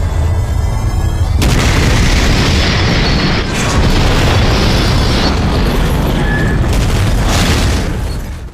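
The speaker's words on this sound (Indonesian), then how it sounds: "ledakan yang begitu dahsyat" A sudden loud explosion in The Walking Dead Season 1 bursts in after a second, followed by a long roaring rumble that slowly fades away.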